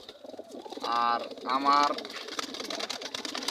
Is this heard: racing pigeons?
yes